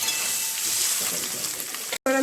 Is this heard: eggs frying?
yes